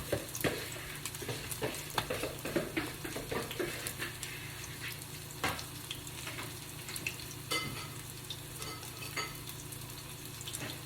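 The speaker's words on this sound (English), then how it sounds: "it's not a full pan of oil. It's just enough to coat the outer edges of the patty and get that going." Salmon patties frying in a shallow layer of oil in a pan, a soft continuous sizzle with scattered crackles and pops, fairly quiet and heard alone.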